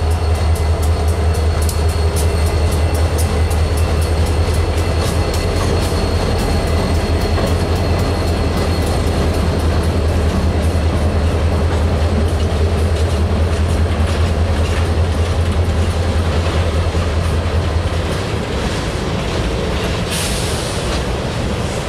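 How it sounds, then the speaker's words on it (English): A southbound freight train passes near Cincinnati, Ohio, with a loud steady rumble, rhythmic clickety-clack of wheels over rail joints and faint wheel squeal, continuing for about twenty seconds before easing off. "I seen it coming around the corner, but I didn't know what symbol this train was."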